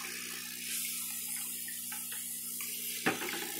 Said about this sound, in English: A lot of bubbles. Second one's gonna be the Airstone.